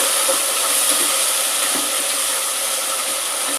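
Carrot, tomato, capsicum and curry leaves frying for pulao, a dense continuous hiss of sizzling held loud and steady from start to finish, with no one talking.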